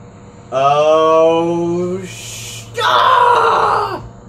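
A video game character lets out a loud, close scream in two long strained bursts: a pitched wail, a short pause, then a harsher second cry.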